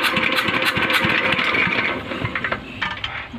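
A small engine driving a rice field water pump runs loud and close with a rough, rattling idle, steady at first and then weakening and sputtering unevenly toward the end, as if struggling to keep running.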